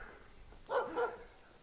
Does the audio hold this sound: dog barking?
yes